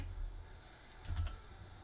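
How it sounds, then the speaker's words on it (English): A few faint, quick keystrokes on a computer keyboard, close but quiet, with a short cluster of taps near the middle. "we're gonna type in error message."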